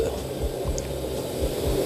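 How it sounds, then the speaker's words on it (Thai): Water bubbles and burbles steadily at a rolling boil in a pot of duck soup, a continuous close gurgling with soft pops and a faint background hum. "หลังจากน้ำเดือดเรียบร้อย"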